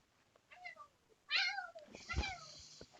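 A house cat meows several times in a row, close but fairly soft, the drawn-out cries rising and falling, with a faint background hum and some movement sounds.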